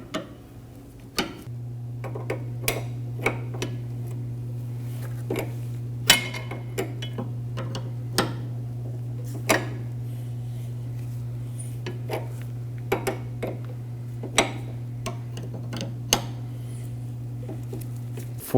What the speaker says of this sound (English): remove the outer portion of the outer tie rod with a 22mm